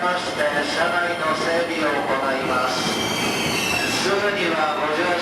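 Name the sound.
train riding toward Mount Fuji, Japan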